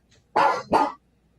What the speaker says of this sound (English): That's my dog telling me my time is up.